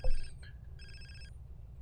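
Phone ringing in GTA San Andreas, two clear electronic ring bursts separated by a short gap, sounding over a low game hum after a soft thump.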